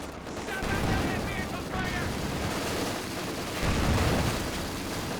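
Gunfire raking a headquarters in the World War II strategy game Company of Heroes 2: sustained, crackling bursts of shots layered under faint in-game voices, swelling loud at the start and again near the end.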